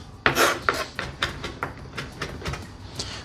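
Knife chopping fresh herbs on a cutting board for a salad served with a steak dinner, a run of sharp, close taps in an uneven rhythm, with no one talking.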